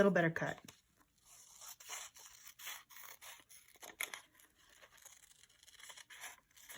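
Scissors snip through paper while a glue book and smash book page is trimmed, a quiet run of short crisp cuts and rustles close by, with faint talk in the background.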